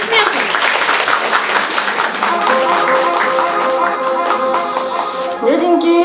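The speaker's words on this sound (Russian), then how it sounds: "Встречайте бурными аплодисментами!" Audience applause for a women's singing group performing a trade-union song, a dense steady wash of clapping throughout, with music and voices rising near the end.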